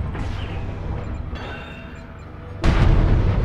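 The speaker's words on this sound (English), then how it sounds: "Alpha Strike fires all weapons at once" Weapons firing together in the MechWarrior Online video game, a heavy booming rumble that drops back, then a sudden loud blast of fire near the end, with no talking.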